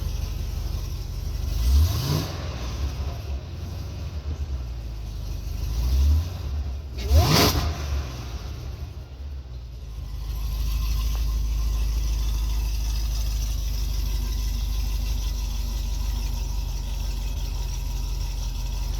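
Supercharged 2010 Cadillac CTS-V running 15 psi boost, 1050 injectors, LT headers, X pipe and stock mufflers, revved twice in sharp rising bursts close by, then settling into a steady deep idle.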